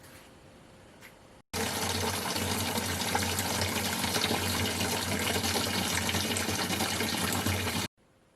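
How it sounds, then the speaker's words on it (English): Hot water gushes from a tap for winemaking, starting abruptly and running loud and steady for about six seconds before cutting off, alone with no voices. "I've run my hot water in"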